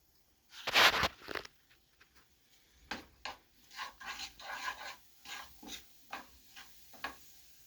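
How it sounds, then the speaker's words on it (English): A utensil scrapes and stirs food around a hot pan during Chinese-style cooking, a loud rasping burst followed by a run of shorter scraping strokes in an uneven rhythm, close up. "I want to give this a good stir"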